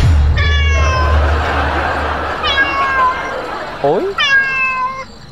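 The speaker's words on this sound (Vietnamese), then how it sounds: "chỉ là con mèo" A cat meows several times in a domestic scene from a Vietnamese family TV drama, its drawn-out, rising calls loud and close, with a man's brief exclamation and background noise around them.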